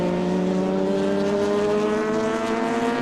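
A Porsche 962 race car pulls off the circuit at a historic racing revival event, its engine giving a steady, loud, droning note with strong harmonics that holds evenly as it drives away.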